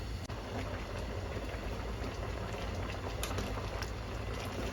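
A pot of fresh bamboo shoots bubbles and boils steadily, a dense continuous gurgling with occasional sharper pops, close by.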